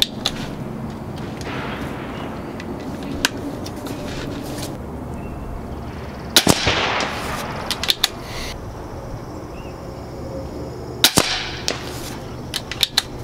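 Distant shotgun reports from an ATI Nova Liberty firing slugs at 100 yards: three or four sharp cracks spread across the span, each with a brief rolling echo over steady outdoor background noise.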